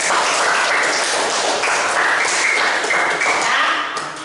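Students in a classroom clap together, loud and close, a dense burst of many hands with a few thumps mixed in that carries on for several seconds.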